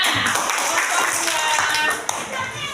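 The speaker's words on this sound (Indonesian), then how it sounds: "Beri tepuk tangan anak ibu semuanya" A crowd of schoolchildren in a classroom lesson claps together in a dense, continuous burst of applause, close and lively, with young voices mixed in.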